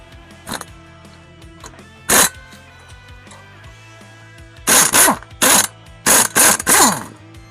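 A cordless impact wrench rattles in several short, loud bursts as it removes a sway bar link from a Polaris Ranger 1000 UTV, with one brief burst early and a tight cluster of rapid hammering bursts near the end.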